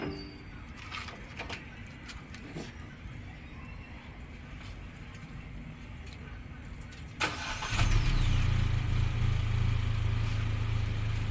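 An MG5 car engine cranks and catches, settling into a steady, louder idle that runs on to the end, with earlier faint rustling and handling noise before the start.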